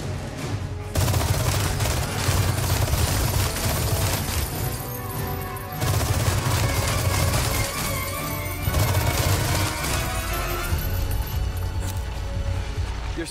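Dense, continuous bursts of rapid gunfire with loud crashes during the Krauser boss fight in Resident Evil 4 Remake, pausing briefly a few times before resuming, with no voices.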